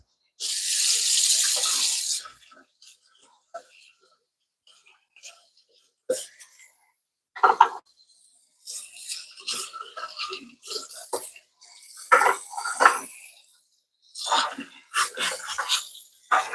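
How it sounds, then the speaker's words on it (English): Tap water runs loudly into a kitchen sink at the start while spoons are rinsed, then softer splashes, clinks and water bursts come in irregular spurts, with a voice talking now and then between them. "let's just wash these spoons"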